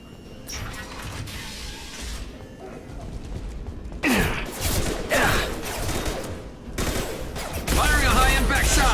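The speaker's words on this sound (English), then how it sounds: "Firing a high-impact shot!" Rapid gunfire bursts in the Mass Effect 2 video game, dense crackling volleys that stop and restart, with loud close shots and whooshing impacts in the later bursts over a constant low rumble.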